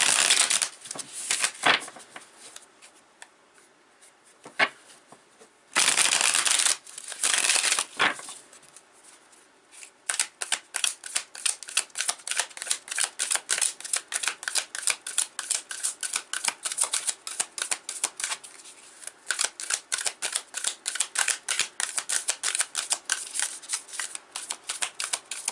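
A deck of tarot cards is shuffled up close, with a few bursts of riffling and sliding at first, then long runs of rapid, crisp card flicks that repeat steadily.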